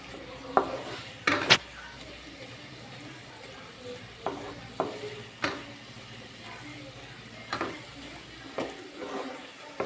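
Boondi batter frying in hot oil in a pan gives a low, steady sizzle, broken by several sharp clinks of a utensil against the metal pan.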